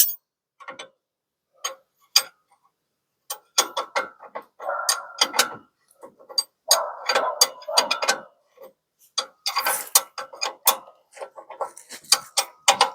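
A ratchet with an 18 mm socket works a shock absorber bolt on an F100 truck, giving sharp clicking bursts in irregular runs with short pauses, close and fairly clear with no talk.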